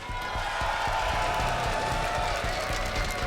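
A large arena crowd in Montreal cheers and roars continuously at the Six Invitational 2023 Rainbow Six Siege esports playoffs, a dense wash of voices filling the space with steady excitement.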